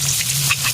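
Garlic added to onions sautéing in oil for Filipino batchoy, a loud close continuous sizzle and crackle with light stirring, no talk.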